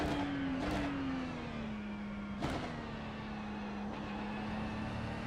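A Ferrari 296 GT3 race car in iRacing laps Spa in Belgium, its engine a steady high drone that dips slightly as it shifts, with short sharp bursts breaking in, no voice heard.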